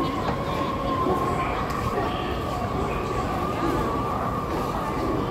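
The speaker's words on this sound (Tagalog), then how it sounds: "Nandiyan na yung train kasi." A train pulls into a crowded station platform, its steady rumbling roar filling the space with a faint high whine above, as people talk nearby.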